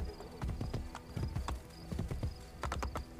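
Horse hooves clip-clop in the video game Assassin's Creed Brotherhood, a brisk, fairly quiet run of uneven hoofbeats with no talk over them.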